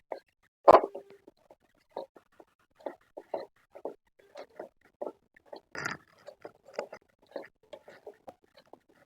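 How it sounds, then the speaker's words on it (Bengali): Ground peanuts stirred into sugar syrup in a pan over low heat, giving soft scattered scrapes and sticky taps in an irregular rhythm, fairly close, with one louder clack near the start. "চিনির রসের মধ্যে এই গুঁড়ো বাদামটা আমি দিয়ে দেব। গ্যাসের আঁচটা কম করে এটাকে আমি একটু পাক দিয়ে নেবো।"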